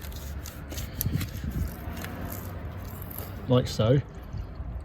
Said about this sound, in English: now the water in the expansion bottle drops down